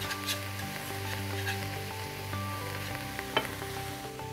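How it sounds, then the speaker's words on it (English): Roux for gumbo sizzling in a pot as it is whisked, a steady close hiss with soft scraping and a faint hum, no talking. "And I'm going to keep whisking this so we get a nice roux going."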